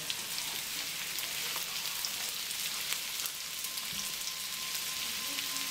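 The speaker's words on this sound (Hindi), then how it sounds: "ऑयल को हमने थोड़ा सा गर्म करके इसके अंदर हमने प्याज डाल देने हैं।" Sliced onions, two medium ones, sizzle and fry steadily in hot oil in a pan as they cook toward golden, a dense, even crackle close by with no talking.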